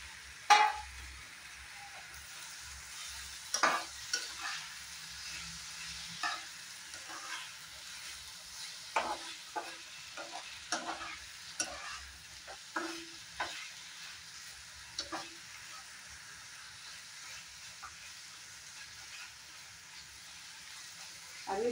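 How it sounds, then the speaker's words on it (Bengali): Potato, onion, capsicum and tomato fry in a pan for a paneer dish, a faint steady sizzle broken by irregular scrapes and taps of stirring, with occasional quiet talk. "আর একটু সময় ফ্রাই করে নিব।"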